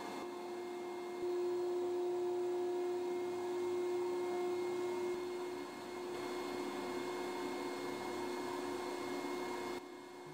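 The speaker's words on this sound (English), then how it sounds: "the deposits being removed were vacuumed up at the same time" A vacuum cleaner draws off dust from mural paintings during conservation work, a steady whining drone with a constant tone that holds unbroken and close for about ten seconds, with no voices.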